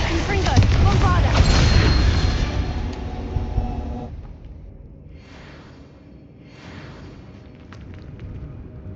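A Bombarda explosion spell goes off in the Hogwarts Legacy video game: a loud, dense rumbling blast that holds for about four seconds, then drops to a quieter bed with a couple of soft swells.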